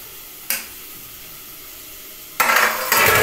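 Tomato and capsicum drop into hot oil in a pan, giving a brief clatter and then a loud, steady sizzle that swells and carries on to the end.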